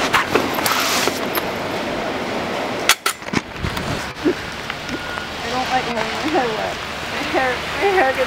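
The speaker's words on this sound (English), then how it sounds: "Can't film the rain at all." Steady rain falls outdoors in a continuous hiss, with a few thumps and handling bumps and people talking nearby over the wash of the downpour.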